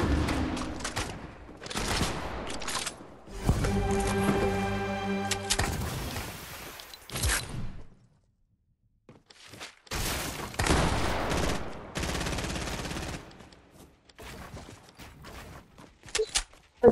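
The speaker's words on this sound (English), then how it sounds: "Gabe's gonna spam his shotgun." Shotgun blasts fired repeatedly in Fortnite, loud close bursts in quick succession with a silent gap midway, then more rapid shots and faint steps.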